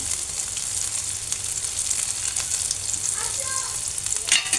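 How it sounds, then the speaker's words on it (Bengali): Garlic, onion and green chilies frying in oil, giving a steady, close hissing sizzle throughout, with a few stirring scrapes near the end. "এখানে রসুন পেঁয়াজ আর কাঁচামরিচ আমি ভেজে নিচ্ছি"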